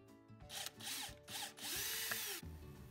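Power drill with a bit deburring a hole in a plastic hummingbird feeder, three short whirring bursts close up with brief pauses between them.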